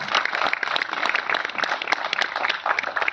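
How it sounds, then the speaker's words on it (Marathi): Audience applause fills a theatre for the Shivaji Mandir trust, dense steady clapping from a large crowd, loud and continuous throughout with no talk over it. "त्यामुळे शिवाजी मंदिर ट्रस्टसाठी जोरात टाळ्या होतात"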